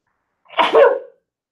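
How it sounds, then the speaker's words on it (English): One short, forceful sneeze, close and fairly loud, with nothing else around it. "Excuse me, sneeze."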